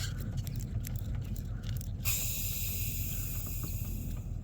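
A steady hiss of air escaping from an opened fuel bleeder screw on a Duramax LMM diesel being primed after a fuel filter change starts abruptly partway through, broad and bright, continuing over a low background rumble with no talking.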